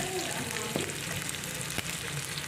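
Garlic and onion frying in a pan, a steady close sizzle with a couple of brief clatters of utensil against the pan.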